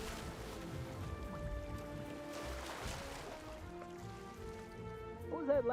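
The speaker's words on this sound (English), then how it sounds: "What was that loud splashing sound?" Loud water splashing and sloshing in a video game, with a wash of waves building to a sharp, louder splash at the end beneath game sounds and voices.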